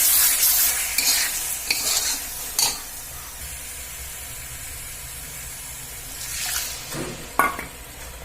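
Masala spices roasting in a pan for jackfruit kofta curry, a constant hiss of frying broken by several scraping stirs of the spoon, close and fairly loud.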